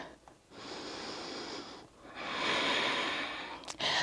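Slow, deep yoga breaths drawn in and pushed out through the nose, two long audible breaths close to the listener, with a brief sniff near the end and no talk.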